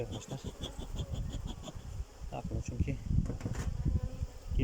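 Many honeybees hum and buzz at a hive in a dense, steady drone up close, with a person talking quietly underneath.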